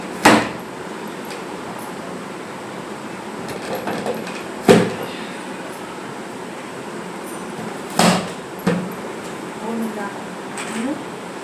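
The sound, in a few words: cutting amla gooseberries with a kitchen cutter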